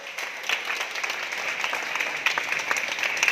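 An audience applauds a motivational speaker at an industrial visit, a steady wash of many hands clapping at moderate volume, fairly distant, with no pause across the few seconds.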